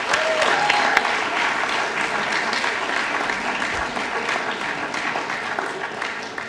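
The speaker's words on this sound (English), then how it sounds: "Massive round of applause" A large crowd at a university sports club awards ceremony applauds loudly and continuously, a thick wash of clapping with some cheering that holds steady throughout.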